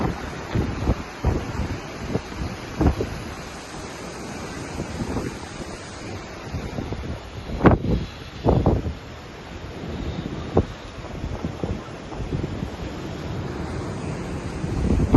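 At Kanyakumari, where the Arabian Sea meets the Bay of Bengal, strong wind buffets the microphone in loud gusts over a steady rush of rough sea waves, with no one speaking.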